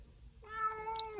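A ginger cat gives a single drawn-out meow, close and fairly quiet, with clear tonal harmonics rising briefly at the end.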